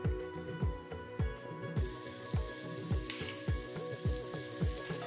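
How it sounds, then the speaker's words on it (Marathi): Garlic and peanut kharda sautés in two spoons of oil in an iron kadhai, stirred with an iron spatula: a soft sizzle broken by regular rhythmic scraping strokes, close and fairly quiet. "आता आपण हा खरडा परतून घेतोय। मी इथे लोखंडाची कढई घेतली आहे, 2 चमचे तेल घेतले मी इथे।"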